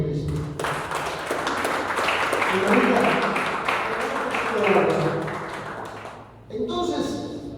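A church congregation claps loudly and steadily in a dense burst that fades toward the end, with voices and a speaker heard above and after the applause.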